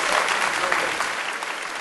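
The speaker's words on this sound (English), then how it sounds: "Everybody give her a round of applause" Crowd of audience members applauding, a brief dense wash of clapping at steady volume that tapers slightly toward the end.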